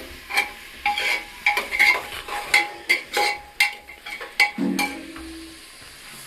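Metal spoon stirring food in a pot, a quick run of close scraping clinks against the pot with faint sizzling beneath, no talk.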